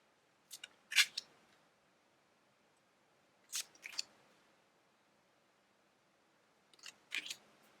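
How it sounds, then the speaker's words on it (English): Tarot cards handled and set down on a surface, three separate bursts of close, crisp papery snapping and sliding, each split by several seconds of near silence. "I'm going to put down some tarot cards"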